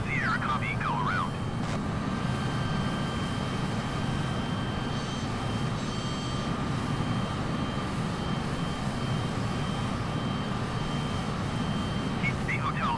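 F-16 fighter jet landing at CXB, a steady distant jet roar sustained throughout, with faint radio chatter at the start and end.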